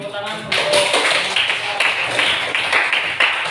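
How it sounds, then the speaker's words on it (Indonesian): Clapping from students in a high school classroom during a guidance lesson on bullying, a brief burst of close, dense hand claps with a few sharper taps standing out, under faint voices. "Beri tepuk tangan"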